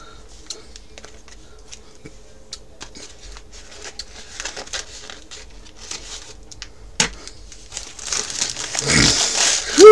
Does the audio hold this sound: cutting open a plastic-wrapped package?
yes